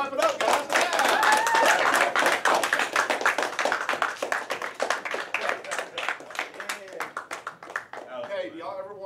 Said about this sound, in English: All right, y'all can clap it up